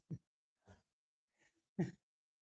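Four short, separate coughs spaced about half a second apart in a quiet room, the last one loudest and most forceful.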